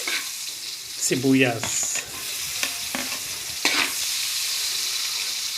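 Garlic sizzles in a frying pan over a steady background hiss, with clinks and scraping stirs, while a person speaks briefly over it.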